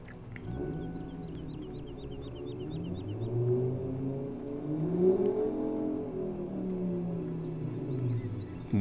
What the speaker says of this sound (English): That's the traffic sounds.